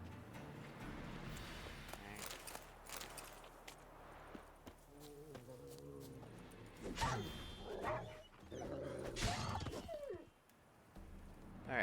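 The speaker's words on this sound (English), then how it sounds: "oh, wild dogs." Wild dogs growl and bark in The Witcher 3: Wild Hunt on PC, with rough snarls rising in bursts over game combat clatter and footsteps, loudest toward the end.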